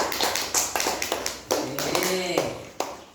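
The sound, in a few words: classroom applause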